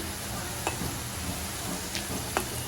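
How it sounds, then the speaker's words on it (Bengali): Onions frying in a pan for birista to go with meat, a steady close sizzle throughout with a few brief clinks of stirring. "মাংসতে দেওয়ার জন্য পেঁয়াজের পেরেস্তা রেডি করে নিচ্ছি"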